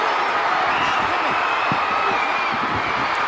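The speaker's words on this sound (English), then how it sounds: "The crowd leaps to its feet." A big wrestling crowd at Texas Stadium roaring and cheering steadily, a dense, loud outdoor wash of voices and whoops that stays constant throughout.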